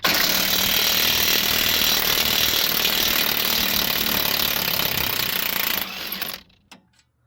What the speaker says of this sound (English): Next, we can remove the 17mm bolt.